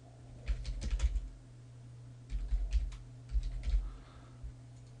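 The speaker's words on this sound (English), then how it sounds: "make sure we type in a subject" Keys clatter on a computer keyboard as a discussion subject is typed into an online e-learning forum, coming in three short bursts of quick taps over a steady low electrical hum.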